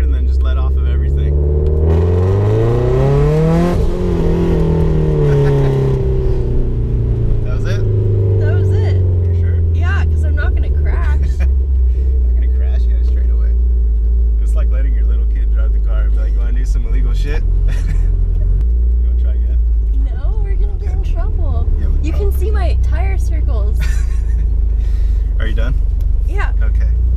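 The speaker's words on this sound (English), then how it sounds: "Floor it till you get scared and then just let off of everything." Subaru STI racecar with about 600 horsepower at full throttle, engine note climbing and shifting through gears with a loud roaring rumble from inside the car, people talking over it throughout.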